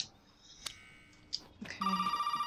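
A telephone rings in the video game Resident Evil 7, its steady electronic trill starting partway through and holding loud and close, after a few scattered knocks and clicks.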